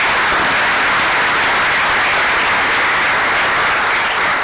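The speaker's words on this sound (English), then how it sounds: "A round of applause, please." Sustained loud audience applause at a live masterclass event, dense steady clapping from a large crowd filling the whole stretch with no pauses.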